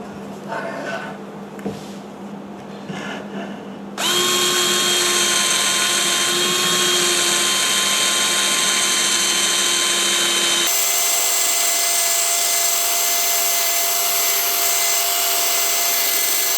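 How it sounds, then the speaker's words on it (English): After a few quiet seconds, a power drill fitted with a larger bit starts drilling from the back of a workpiece, holding a loud, constant high whine that shifts pitch once partway through. "I'm just going to change the side and then start drilling from the back."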